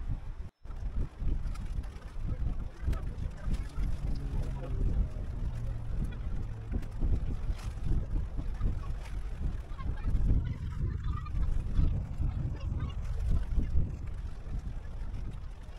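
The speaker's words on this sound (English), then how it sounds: "Right now we have the American Integrity departing through the Duluth Ship Canal" Lake freighter American Integrity departing through the Duluth Ship Canal, a broad low rumble of engines and churning water heard from shore amid wind, with geese and other waterfowl calling nearby.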